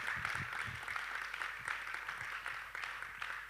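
Audience applause after a stage production in a Hindi-language theatre setting, a soft, steady patter of many hands clapping, faint and distant, continuing evenly without pauses.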